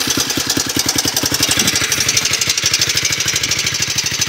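A 1986 Honda Fourtrax 250 ATV with a deteriorating exhaust, its single-cylinder engine running at a steady, loud, close idle with a rapid, even thumping pulse throughout.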